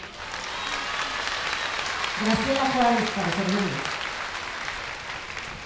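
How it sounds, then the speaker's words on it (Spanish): An audience at a public assembly in Puebla claps steadily throughout, a broad wash of applause while someone briefly speaks over it near the middle. "Ahora le vamos a dar un fuerte aplauso"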